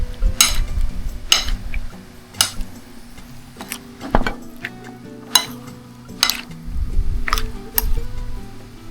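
Stirring food in a frying pan: sizzling underneath repeated sharp metallic scrapes and clinks of a utensil against the pan, spaced irregularly about once a second, close by with no talk.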